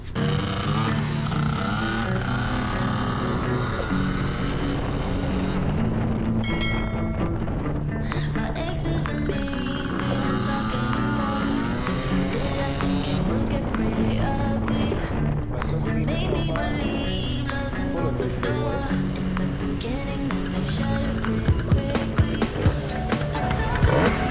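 A Gilera Runner 180 scooter fitted with a Malossi kit rides out on a test run, its engine droning and shifting pitch steadily with wind rush throughout and the note rising near the end.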